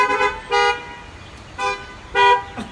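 A car horn honks three separate times in short blasts, with outdoor traffic noise running underneath.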